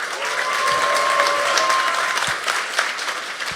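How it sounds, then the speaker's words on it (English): Audience applause at a hardware conference badge hacking awards session, a dense burst of clapping from a crowd voting on a project, loud and sustained for several seconds before thinning out slightly. "we're just gonna do voting by audience applause"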